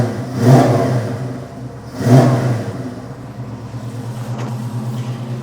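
A deep Ford Mustang V8 with an X-pipe exhaust rumbles at idle, surging through two strong revs a couple of seconds apart before settling back into a throaty burble.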